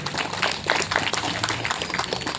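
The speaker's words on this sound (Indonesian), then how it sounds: "Tepuk tangan buat kita semua." A children's audience applauding at a storytelling session, a moderate, steady patter of many small hands clapping with uneven bursts throughout.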